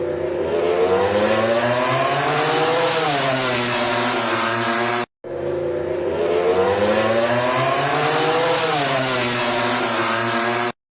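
A KTM 850cc MotoGP motorcycle engine revs loudly and continuously at the Jerez circuit, its pitch dipping and climbing again, with a short break before a second near-identical run.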